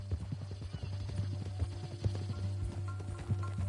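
Hooves clip-clop at a steady walking rhythm from a horse in Red Dead Redemption 2, close and fairly quiet over a low constant hum.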